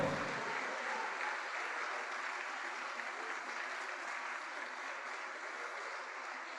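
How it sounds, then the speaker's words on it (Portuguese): A church congregation applauds in worship, a sustained, even wash of many hands clapping that fills the room from start to end. "Vamos aplaudir mais ao Senhor."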